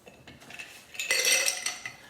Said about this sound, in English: So we'll pour this into a glass of ice.